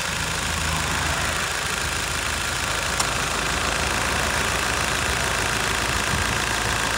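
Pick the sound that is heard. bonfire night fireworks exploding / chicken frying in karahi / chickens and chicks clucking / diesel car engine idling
diesel car engine idling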